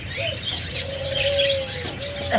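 A pair of opaline lovebirds in a breeding cage gives thin chirps and drawn-out calls, close by, over a steady background hum.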